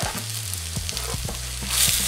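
Mushrooms dropped into a hot pan of frying leftover potatoes and scallions, a loud close sizzle with stirring scrapes that swells near the end.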